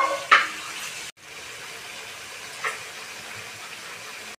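Mutton head meat frying in a pan for curry, a faint steady sizzle close by, with a brief clatter near the start and a softer bump midway.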